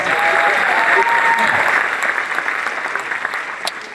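A stand-up comedy audience breaks into loud, sustained clapping that slowly tapers, with scattered cheers mixed in.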